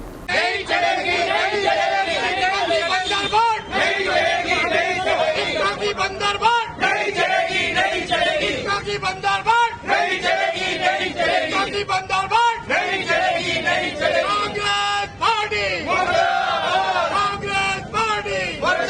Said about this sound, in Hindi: इसी बीच जिंदाबाद मुर्दाबाद के नारों से कांग्रेस कार्यालय गूंजता रहा